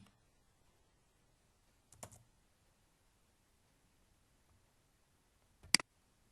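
Two isolated computer keyboard keystroke clicks, likely a Ctrl+C copy shortcut, sounding sharp and close against near silence, the second louder than the first, with no talk.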